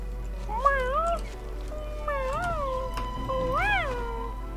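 A cat in Genshin Impact meows three times in a row, clear, close and fairly loud over a steady low background hum, with short pauses between the calls.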